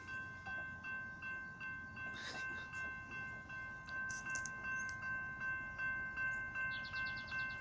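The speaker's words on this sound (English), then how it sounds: "That's a freight train." A southbound BNSF freight train rumbles steadily past at a distance near Seattle, with continuous rolling noise, rail screeches and a faint horn tone running throughout.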